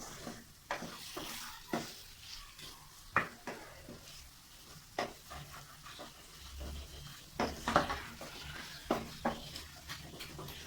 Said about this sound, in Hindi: ये मैंने चिकन इसमें डाल दिया, और अच्छे से आप लोग जो है चिकन को इस मसाले में मैरिनेट कर दें